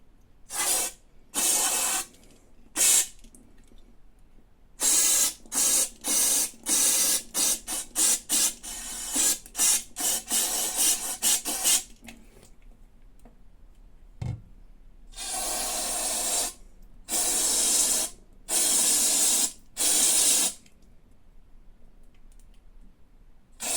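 Repeated bursts of spray blast cleaning on BMW E60 hybrid turbo parts, loud hissing blasts in irregular short and longer bursts with brief pauses, close and alone.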